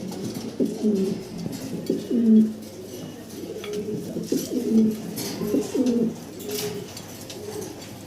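Fancy Mundian pigeons cooing nearby, low repeated throaty coos rising and falling over a soft background hum.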